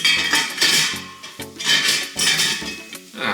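A metal meat basket is set into a hangi cooking pot on top of flavour sticks, making a series of close metallic clanks and scraping rattles in uneven bursts.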